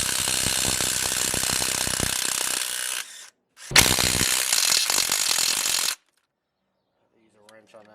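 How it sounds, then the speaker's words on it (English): A hand ratchet wrench works a bolt during a Rough Country 2.5-inch lift kit install on an S10 Blazer, clicking in rapid, close bursts with a short pause. It then stops into silence before a faint voice comes in. "Use a wrench on that one."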